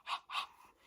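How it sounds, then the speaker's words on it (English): A 4-5 month old baby girl takes two quick, breathy pants close to the microphone, and a faint softer breath trails off after them. "She likes to heavy breathe, don't you?"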